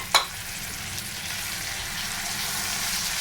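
Finely chopped tomato drops into a pan of frying onions while cooking goat liver, a sharp splash-like hiss at the start, then a steady close sizzle that continues evenly.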